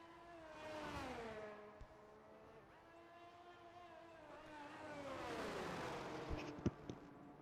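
A race car engine revs on the Australia circuit in a realistic sim racing game. The tone is distant and faint, rising and falling through the gears as it passes by, with a few sharp clicks near the end.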